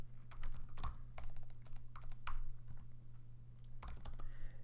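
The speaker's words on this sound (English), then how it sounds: "You can type in terminal" Typing on a computer keyboard to open a terminal, a run of quick key clicks in irregular bursts with short pauses, near and quiet over a low steady hum.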